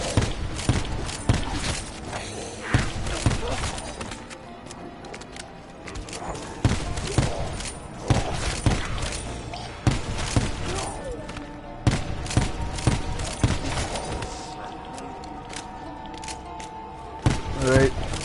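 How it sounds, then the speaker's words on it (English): Gunfire in Call of Duty Black Ops 4: repeated bursts of automatic fire and single shots recur through the whole stretch, loud and punchy over a busy backdrop of game sounds and thuds. "the guns sound like guns"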